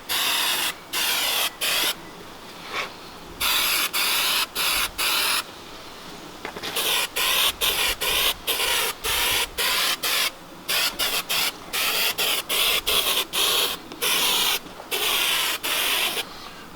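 Spray glue hisses onto the fabric headliner of a BMW E36 in a series of short, loud, close bursts with brief gaps between them, with no talking.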